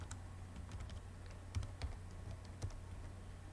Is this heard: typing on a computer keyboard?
yes